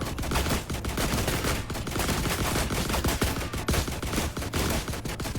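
Rapid, sustained pistol fire in the video game The Last Caretaker: a steady stream of sharp, loud shots rattling on for several seconds, close and unbroken, with no voices.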